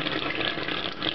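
Tap water runs steadily over coconut charcoal, a close, continuous rushing splash with no pauses.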